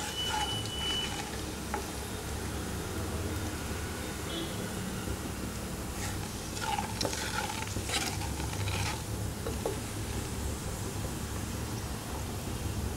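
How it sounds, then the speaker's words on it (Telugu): Mustard, cumin and fenugreek seeds splutter in hot oil with a soft continuous sizzle and scattered small pops, faint and close, with no speech. "వాటిని కాస్త చిటపట్లాడేటంత వరకు వేగనివ్వాలి."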